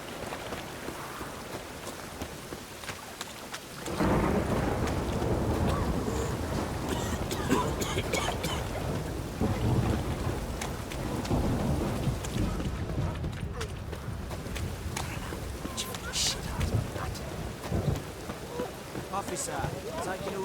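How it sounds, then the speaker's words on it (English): Steady rain pours down in the Witcher 3 video game, with horse hooves clip-clopping and speech heard over the downpour; no clear thunder stands out. "Must be mad running around in this rain."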